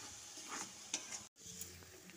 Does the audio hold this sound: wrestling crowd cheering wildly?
no